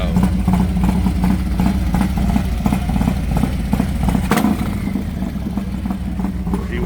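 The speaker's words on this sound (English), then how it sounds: "This bike here is ridiculously loud." A very loud motorcycle at a street meet-up in College Park, Maryland, rumbles close by with a rapid, pulsing exhaust beat that stays strong throughout, with a brief sharp burst midway.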